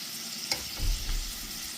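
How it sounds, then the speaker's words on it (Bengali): Spices with turmeric and salt frying for dal, with a quiet sizzle, a sharp utensil tap, and a low stirring rumble toward the end. "আমি ভালো করে কষিয়ে নেব"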